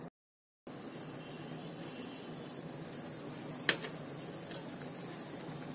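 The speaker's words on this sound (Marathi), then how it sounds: "आता मस्त छान उकळी आली आहे बघा, वाफ पण येते." Salted water boiling in a pot on a gas stove, a steady bubbling hiss that runs on without pause, with one sharp click partway through and no voices.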